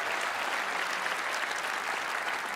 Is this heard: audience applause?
yes